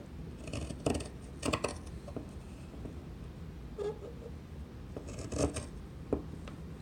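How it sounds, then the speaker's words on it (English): Fabric shears snip and rasp through cloth for a zipper pouch in long straight cuts, giving close, uneven crunching strokes with short pauses between them and no talking. "now I'm going to take my shears, start at one end. I'm going to cut long, straight cuts."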